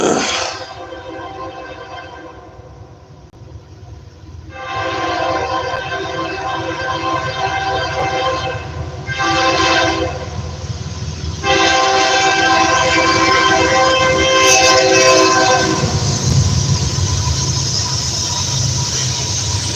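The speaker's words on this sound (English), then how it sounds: "Hope you guys like listening to the dulcet fucking tones of a goddamn railroad." A train rumbles past on a railroad, loud and close, with a long blaring horn sounding in several blasts over a continuous rolling of wheels and cars.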